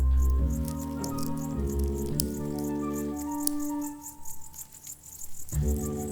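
A male grasshopper on open moorland clicks by flicking its hind legs against its wings, giving repeated short ticks over a layered wild background.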